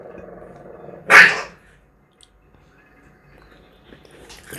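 A small dog gives one loud, sharp bark-snap at another pet, then falls quiet while faint room noise continues.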